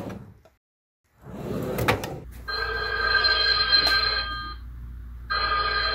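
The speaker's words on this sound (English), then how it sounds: "While I was recording this video, I got a phone call from Orion Technical Support." A telephone rings indoors with a steady electronic trill that sounds in two bursts, preceded by a short knock or clunk, fairly loud and near.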